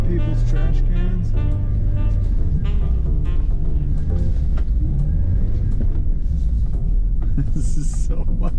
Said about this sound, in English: Sending it over the speed bumps sideways